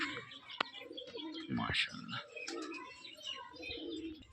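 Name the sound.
pigeons cooing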